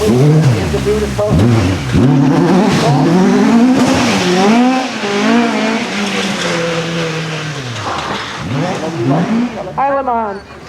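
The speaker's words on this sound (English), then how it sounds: "He's being caught by car number 30, the car, the Escort Mark II RS 1800, Van Watkins and Tim Blomqvist" A Ford Escort Mark II RS 1800 rally car races at a historic rally festival, its engine loud and near, revving hard through repeated gear changes with rising and falling pitch sweeps, the roar dropping and climbing again near the end.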